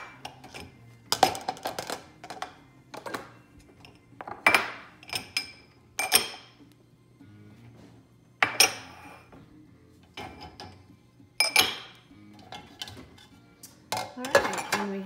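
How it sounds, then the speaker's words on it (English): Dishes and glassware clink and clatter in scattered bursts as they are set down, with quiet pauses between the sharper knocks. "my mugs, plates, glasses. I always tip them over in the dishwasher"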